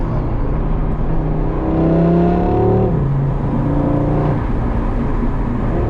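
Audi RS3 engine pulling hard under heavy acceleration, a loud rising drone that climbs in pitch over a few seconds, drops back and climbs again, with steady road and wind noise throughout.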